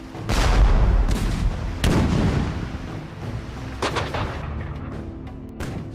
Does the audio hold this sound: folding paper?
no